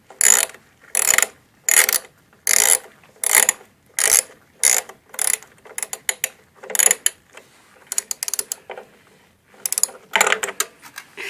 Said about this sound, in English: now I've got the 4 hex bolts back in place and I'm just going systematically around tightening